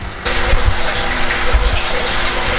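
An electric aquarium cleaner pulls water and fish waste from a tank, starting abruptly with a steady gushing, gurgling rush of water and a low pump hum underneath, close and continuous.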